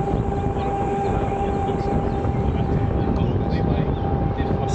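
An RC boat with a Castle 1650kv motor on a Hydra X8S, running at full throttle: a steady, loud high-pitched whine holds unbroken for the whole stretch over constant water and wind noise.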